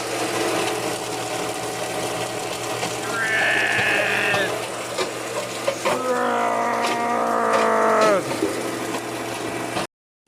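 Plastic shredder motor chews through plastic with a droning rumble broken by two strained, pitched groans as the blades bite under load, loud and close.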